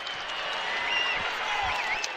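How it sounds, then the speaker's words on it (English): Arena crowd at a Georgia college basketball game cheering and applauding in a steady, loud wash of noise as fans rise to their feet late in a close game, with faint whistles and calls above it. "And now Tom Crean asking the crowd to get up on their feet, and they are."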